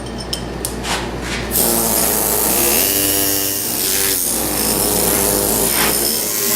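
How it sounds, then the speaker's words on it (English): A small rondelle tool grinds steadily against a sculpture while carving coils of hair, a loud continuous abrasive rasp that rises after a few scattered scrapes at the start. "Now I can make my turns with my small rondelle."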